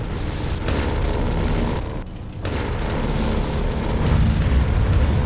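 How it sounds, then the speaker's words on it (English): Continuous, loud rapid gunfire with booming blasts in a modded video game, briefly dropping out for a moment before resuming at full intensity. "we have the bullet shells and we have the gunfire"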